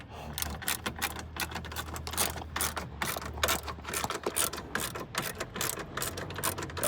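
A ratchet wrench works the headlight bolts loose on a 2010 Ford F150, a continuous fast rapid clicking that runs steadily without pause, close to the tool.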